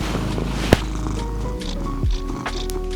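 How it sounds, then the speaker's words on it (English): A cat purrs in a steady low rumble close to the mic, with a brief bump and faint rustling partway through. "He's currently purring very loud."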